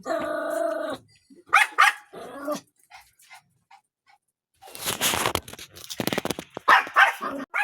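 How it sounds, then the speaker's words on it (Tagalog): A dog nearby gives a long bark, then snarls and growls in bursts with short yips and panting between, loud and agitated, no talking. "Maingay yung aso."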